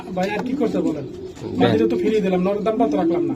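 Racing pigeon cooing in a loft, a few soft throaty coos heard close under steady conversation.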